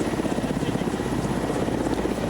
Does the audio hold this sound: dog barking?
no